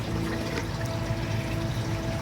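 Warm water is poured steadily to soak a growing medium for air layering a lime tree, a close, continuous rushing pour with no talking.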